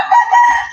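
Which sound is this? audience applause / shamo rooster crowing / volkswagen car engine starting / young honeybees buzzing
shamo rooster crowing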